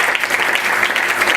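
A church congregation applauds together in a sustained, loud burst of many hands clapping, dense and even from start to finish with no talk over it.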